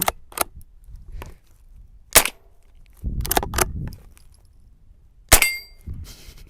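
Sharp metallic clacks from striking the steel slide of a Derya Arms TM22 .22lr rifle, several separate hits with quiet gaps between them, one ringing briefly; close and loud, no talking.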